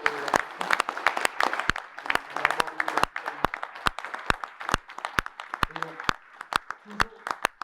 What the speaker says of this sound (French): je vais vous demander, s'il vous plaît, de leur faire un tonnerre d'applaudissements.